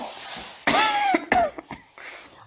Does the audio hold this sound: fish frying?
no